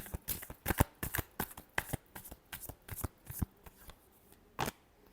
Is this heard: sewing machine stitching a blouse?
no